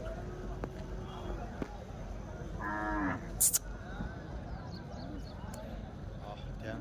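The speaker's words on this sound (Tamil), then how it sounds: "இது பசுமாடு, நல்லா சுறுசுறுப்பாக இருக்குது பசுமாடு." An energetic dairy cow gives a single short low moo over steady outdoor farm background noise, with some distant knocks and rustling.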